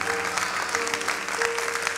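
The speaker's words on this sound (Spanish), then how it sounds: "¿Sí ve cómo bajan los aplausos allí?" An audience at a Spanish-language sermon applauds steadily, a dense wash of clapping with a faint steady tone running beneath it.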